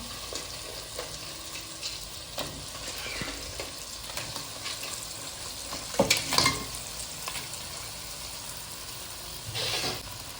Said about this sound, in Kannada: ಇವಾಗ ಏಡಿ ಹಾಕ್ತಿದ್ದೇನೆ